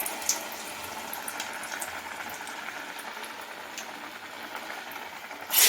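Banana flower vada batter drops into hot oil and fries, a steady bubbling hiss close by with small crackling pops and a louder burst right at the end.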